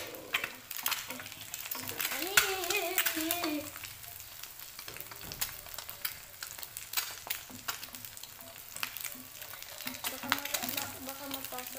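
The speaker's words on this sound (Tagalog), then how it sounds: "Natasik yung mantika." Cooking oil sizzles and spatters in a pan during frying, a constant faint crackle with sharper pops and stirring, while a woman exclaims over it at times.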